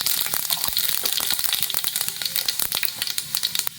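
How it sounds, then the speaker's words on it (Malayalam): Fenugreek and fennel seeds fry in hot oil in a pan for a chicken curry, with a loud, dense sizzle and quick crackling pops throughout, heard close up. "ഉലുവ കുറച്ച് വലിയ ജീരകം ഇട്ട് കൊടുക്കുക."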